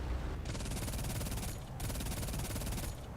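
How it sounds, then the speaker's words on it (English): Aircraft machine guns firing in War Thunder aboard a TB-3 bomber, rapid dense rattling bursts with a brief gap in the middle, steady and fairly loud against engine drone, no talking. "Starting to wobble a little bit more with the machine gun fire."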